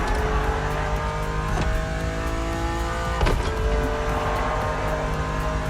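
BMW Z4 E89 engine in The Crew Motorfest revs loudly, pitch climbing and dropping through gear shifts with two sharp breaks, a continuous close engine roar with faint tire noise and no talk.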